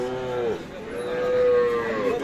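Sahiwal cattle at a busy livestock market give long, drawn-out moos, one low call followed by another rising, sustained bellow, with faint crowd murmur behind.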